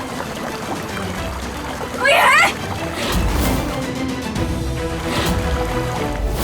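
Water pours and splashes in an enclosed space, with a brief loud gush and ongoing sloshing and trickling as a woman calls out and speaks in a dramatic scene.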